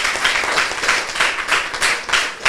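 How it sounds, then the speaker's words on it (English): Audience clapping at a school handover ceremony, a brisk, dense patter of hands with rhythmic surges, fairly close and loud, without talk. "So let's give Reverend a round of applause."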